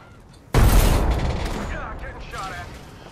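Apex Legends gunfire erupts suddenly after a quiet moment, a loud close burst of rapid shots that decays into scattered fire and echoes, with faint voice-like chatter toward the end.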